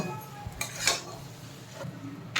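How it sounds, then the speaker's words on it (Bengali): Fried vegetables for Bengali shukto, including bitter gourd and eggplant, tipped into a pan of cooked spice paste and stirred, with a few sharp utensil clinks and scrapes against the pan over a faint background. "এবার আমি এর মধ্যে সব সবজিগুলো দিয়ে দেব ভেজে রাখা সবজিগুলো তারপর একটু কষিয়ে নেব"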